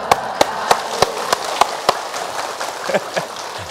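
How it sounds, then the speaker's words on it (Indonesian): A small audience claps after a religious talk: a series of sharp, evenly spaced hand claps, fairly close, then a softer patter of scattered claps with faint voices underneath. "Tepuk tangan"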